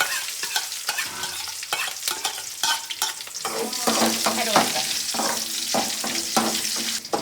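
Chopped onion, dried red chili and curry leaves sizzle in hot oil while a spoon scrapes and stirs the pan in repeated clattering strokes, close and fairly loud.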